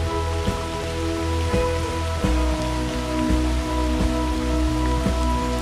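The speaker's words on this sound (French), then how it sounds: "Alors on arrive au col et maintenant bah, il pleut." Steady rain falls at a mountain pass during the Diagonale des Fous trail race, a continuous loud wash of drops alongside low engine-like hum and periodic thuds, with no voices.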